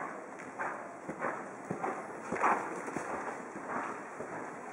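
Several horses cantering around a riding arena at a riding tournament, soft rhythmic hoofbeats on the footing in a rolling three-beat pattern, moderately distant with light wind noise.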